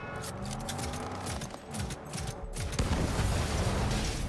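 Rapid bursts of gunfire ring out in the video game Cyberpunk 2077, a continuous rattling volley of shots that grows denser and louder toward the end.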